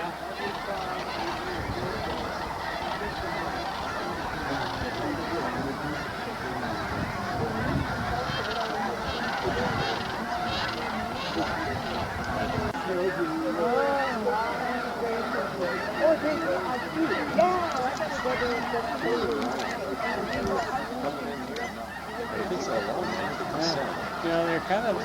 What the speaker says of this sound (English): Thousands of geese in single echelon, wheeling in the sky.